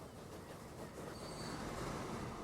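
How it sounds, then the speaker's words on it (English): A train in Transport Fever 2 pulls away, giving a steady low rumble of rolling wagons with a faint wheel squeal rising partway through, moderately loud and alone. "There goes the train to go to pick up the coffee berries."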